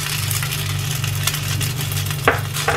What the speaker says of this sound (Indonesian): Jadi kita goreng dulu yiyoknya ya.